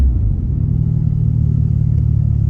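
A Mitsubishi Evo IV's engine runs at a steady low rumble while the car drives, a continuous near drone with slight revving and no talk.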